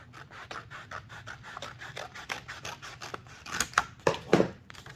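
Scissors cut paper for a reading journal in a series of quick, rhythmic snips and rustles. Near the end the cuts grow louder and sharper, all close and with no talking.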